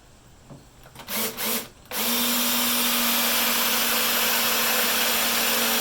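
A power drill bores into a piece of wood laid down as backing during a solar panel install on a Jeep XJ, with a few quick revs followed by a long, loud, steady drilling whine.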